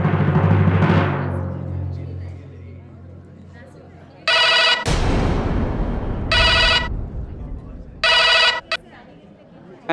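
A mobile phone rings with an incoming call from home, its electronic ringtone sounding in three loud repeated bursts. Beforehand there is a fading tonal sound over ambient room noise, and no clear talk.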